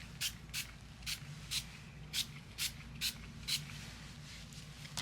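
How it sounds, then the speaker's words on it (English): Eight quick bursts of a spray bottle spritzing ink over paper flowers on a card, evenly spaced and hissing, over a low steady background hum. "I'm going to spray over these flowers."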